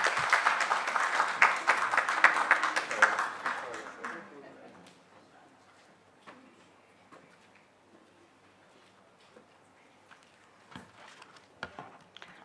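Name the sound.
applause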